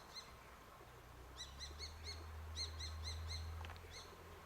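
A hawk gives a series of thin, repeated high-pitched calls in short bursts, heard faintly against a low outdoor rumble.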